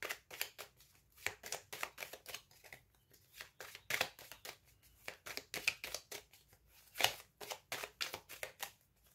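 Tarot cards handled and laid one over another in a quiet reading, giving a run of soft, close papery swishes and light slaps in an irregular rhythm, with no talking.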